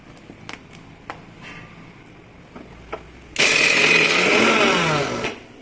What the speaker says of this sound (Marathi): आपण हे दळून घेऊ आता मिक्सरमध्ये.